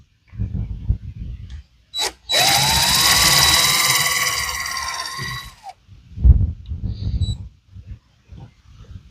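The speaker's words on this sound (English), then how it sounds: "now we got to drill our holes right here" A power drill whirs at high speed for about three seconds, rising in pitch as it bites into wood, with brief bumps and handling noises before and after.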